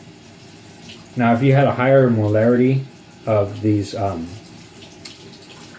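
Water running steadily from a tap into a drain as a low, continuous hiss beneath a person's clear, close speech.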